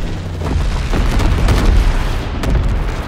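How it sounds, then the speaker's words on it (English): Mortar rounds explode on a Call of Duty WW2 battlefield as a loud, continuous rumble of deep booms with sharper blasts rising through it. "Enemy mortar fire incoming."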